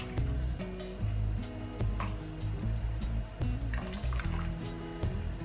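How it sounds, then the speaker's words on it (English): An elderberry drink is stirred in water, producing close liquid swishes and small drips with soft clinks scattered irregularly. Faint tonal background sound runs underneath. "Then I'm just gonna stir it a little bit,"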